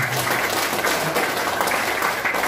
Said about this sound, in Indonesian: Maka tepuk tangan Bapak Ibu semua.